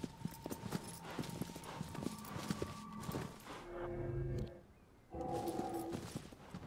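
Horse hooves clip-clop in the Shadow of the Colossus video game on PS4 Pro, a steady walking rhythm of close, crisp steps that pauses briefly before resuming.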